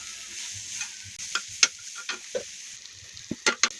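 Onions lightly frying in a pan for a spicy chapa shutki dried-fish mash: a faint sizzle under irregular, close spatula scrapes and clacks that cluster toward the end, with no voices.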